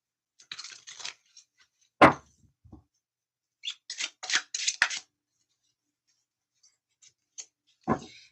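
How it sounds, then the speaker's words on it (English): Tarot cards are shuffled by hand in a quiet room, giving short papery bursts and flicks in separate clusters with silent gaps between them. "Shuffle those just a little bit more."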